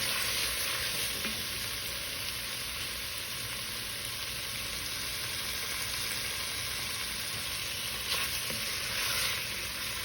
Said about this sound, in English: Let the sausage get a little cooked here, the sausage and the bacon.